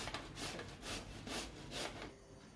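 Pumpkin is finely grated by hand, rhythmic rasping strokes in quick repeated bursts, close and fairly quiet with no talking.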